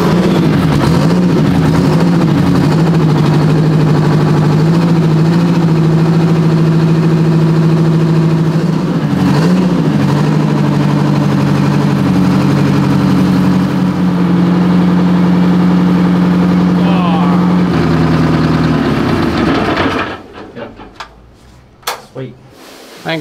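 A WWII M3 Grant tank engine, already started, idles heavily with a deep, throbbing, slightly wavering rumble for about twenty seconds, then cuts out and leaves faint clanks and scattered noises.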